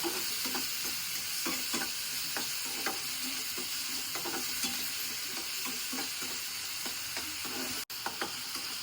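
Gobi manchurian frying in a pan gives a soft, continuous sizzle. Light scrapes and clicks of stirring land every half second or so, close by and low in level.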